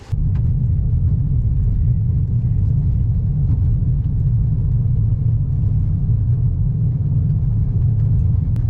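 A Ford Maverick FX4 pickup drives over gravel and sand trails in Ocala National Forest, giving a loud continuous low rumble of engine and tires from inside the cab, steady throughout.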